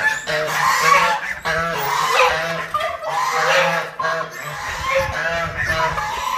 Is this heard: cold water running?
no